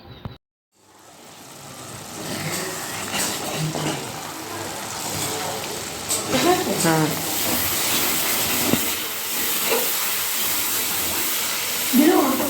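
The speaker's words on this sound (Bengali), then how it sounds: "এখন মাংসর জন্য আলু ভাজা হচ্ছে" Steady sizzling hiss of potatoes frying in a pan, with faint clatter and muffled voices in the background.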